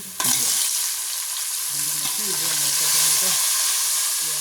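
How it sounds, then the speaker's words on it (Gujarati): Chopped chilli and tomato frying in a reddened spice masala for dal baati, a steady close sizzle and hiss with occasional stirring scrapes and a faint voice in the background. "તળવા દઈશું આપણે"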